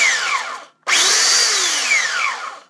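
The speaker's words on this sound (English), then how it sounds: "I'll try out the new belt sander." A new handheld belt sander runs in short bursts, a loud whirring whine that cuts out briefly and then starts up again, pitch sliding as it spins up and slows.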